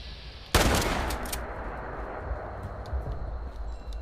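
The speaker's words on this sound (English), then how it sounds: "Might be shotgun time." One loud shotgun blast in Fallout 76 bursts out close and sudden, then rolls off into a long decaying echo, with faint further thumps in the background.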